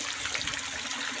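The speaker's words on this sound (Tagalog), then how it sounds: "ito na yung fountain na ikinabit natin" Water sprays steadily from a pump-driven garden fountain whose narrow-bored holes limit the jet, giving a continuous close hiss and splash with no voices.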